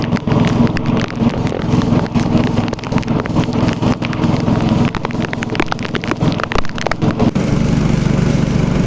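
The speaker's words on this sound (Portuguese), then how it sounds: "Lá vem mais chuva." Heavy rain pours down over the Amazon river, a loud dense hiss with crackling impacts and a steady low rumble, likely from a boat engine, running throughout.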